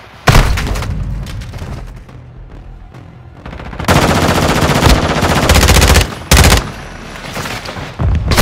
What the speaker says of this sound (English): Fucking grenades everywhere